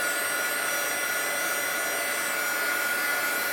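A heat embossing tool blows steadily on embossing powder during an art session, giving a constant, loud fan-and-heater whoosh with broad hiss and no break or talk.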